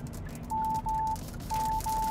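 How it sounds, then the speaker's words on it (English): Blind spot warning chime inside a Kia Sorento Hybrid SUV, two pairs of loud, clean electronic beeps in quick succession over low road and cabin hum. "that was the blind spot warning that's actually quite loud and jarring"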